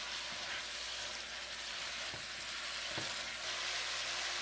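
Beef and green onion sizzling in a stir-fry pan, a soft steady hiss with a couple of faint knocks from the utensil, fairly quiet and close, no talking over it.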